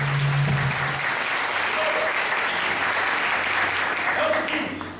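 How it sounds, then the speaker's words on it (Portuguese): A church congregation bursts into loud, sustained applause during a sermon. The clapping holds steady throughout, with a faint voice briefly audible near the start. "Vamos aplaudir o seu pensamento."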